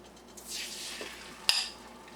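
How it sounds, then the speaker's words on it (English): Eggs cooking in a Revere Ware copper pan, with a soft, quiet sizzle and light clinks of utensil against pan, plus one sharp tap midway. "I'm putting the eggs in."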